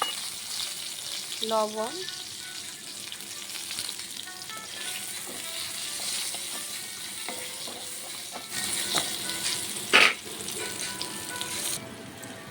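Pointed gourd (potol) pieces frying in a pan with turmeric and salt, a steady close sizzle throughout with a few clinks of stirring and a brief spoken word.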